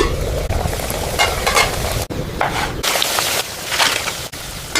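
Coriander vadi (kothimbir vadi) frying in hot oil for a crisp village-style snack, with a steady, close sizzle and bubbling that continues throughout, broken by a few brief dips.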